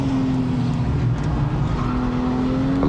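Porsche GT3 991.2 on track at Homestead-Miami Speedway, its engine heard onboard as a steady, loud high-revving drone with a sustained tonal whine and road rumble, holding pitch throughout.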